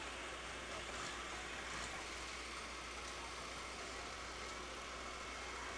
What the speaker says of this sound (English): Those are the kind of tractors that I remember, like this John Deere